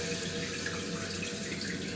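Water runs steadily into a toilet tank after a new supply line is hooked up, a constant close hiss and rush of filling water with no breaks and no talking.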